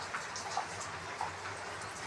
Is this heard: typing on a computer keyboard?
no